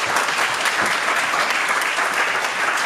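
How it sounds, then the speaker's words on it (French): Dense audience applause at a French corporate event as executives are introduced, a continuous, loud wash of hands with no break. "je vous demande d'applaudir au fur et à mesure"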